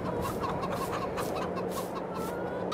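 Chickens in a farm coop in Farming Simulator 22 cluck continuously in a busy, overlapping chorus, close and fairly loud, with no voices.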